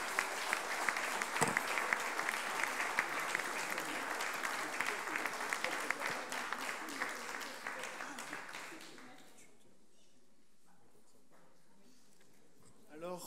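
Dense applause from an audience at a corporate event fills the room for about nine seconds, loud and steady, then stops abruptly, leaving quiet room tone with a few faint stray sounds.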